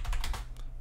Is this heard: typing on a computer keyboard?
yes